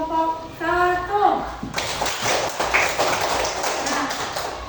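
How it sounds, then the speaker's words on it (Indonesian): A classroom group of children bursts into lively clapping for the first group after a teacher's spoken prompt, the applause dense and sustained, with scattered voices mixed in. "Tepuk tangan dulu untuk tepuk tangan dulu untuk kelompok 1."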